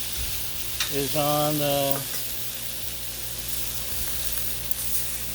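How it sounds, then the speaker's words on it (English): Thick pork chops sear on a Blackstone griddle with a steady sizzle and crackle. Someone speaks briefly over the frying. "Look how well that, whoa, look at that sear. How well it's cooking."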